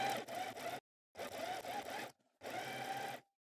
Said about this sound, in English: we stitch along the edge following the curve